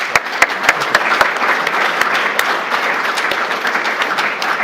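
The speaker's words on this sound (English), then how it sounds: "Let's give them a round of applause." Applause at a school board candidates forum: a modest crowd claps close by, with distinct individual hand claps standing out as sharp hits within the steady patter throughout.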